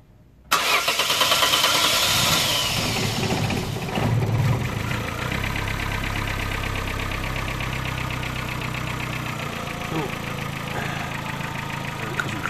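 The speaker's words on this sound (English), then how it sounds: "and start the engine" A Vauxhall Astra engine with an ECU fault cranks and fires up, then settles into a steady, loud idle with a rough, even rumble that continues throughout.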